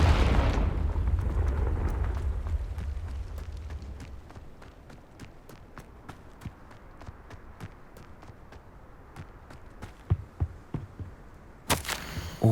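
Confringo explosion spell cast in Hogwarts Legacy: a heavy blast at the start rolls into a long rumbling decay, followed by a string of rapid even thuds like running footsteps and a sharp crack near the end.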